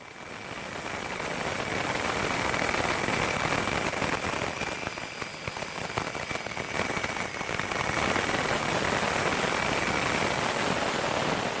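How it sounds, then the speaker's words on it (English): A military helicopter flies over Mosul, a continuous loud rotor and engine drone holding steady for about eleven seconds with no talking. "We think it was the exact helicopter that you're looking at now"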